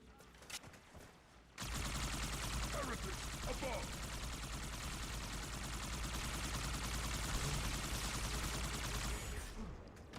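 Turret gunfire in a Halo video game, a continuous rapid stream of heavy automatic shots that starts abruptly and holds steady for several seconds, close and loud, with occasional faint speech.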